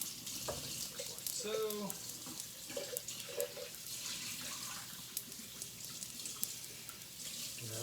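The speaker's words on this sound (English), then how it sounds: "rinse out my coffee, my French press" Tap water runs steadily into a kitchen sink while a French press is rinsed out, a close, hissing flow with small splashes and a brief spoken remark partway through.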